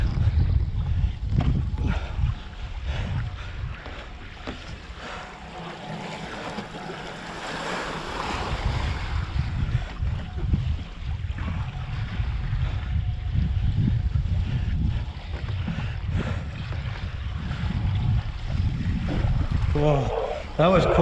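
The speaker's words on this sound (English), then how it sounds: "You could hear the tailwind coming out of the water then." Wind gusting hard across open water during a downwind board run from Blacksmiths to Nobby's, with a steady roaring rush of air and surf, loud and close to the microphone and lasting throughout.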